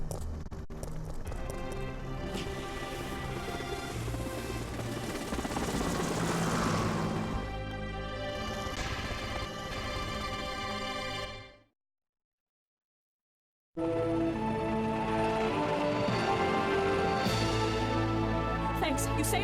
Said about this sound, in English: Don't you hear that? There's a second chopper, and it's here to rescue you.